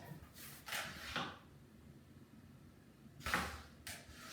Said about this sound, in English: We want to make sure that the door opens and closes.